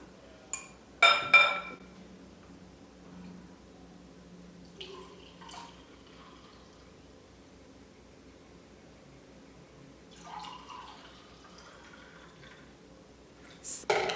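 Homemade tiger nut milk is poured into a glass. Quiet trickling runs through it, with sharp clinks of glass at the start and end and a few soft knocks in between, close up, with no talking.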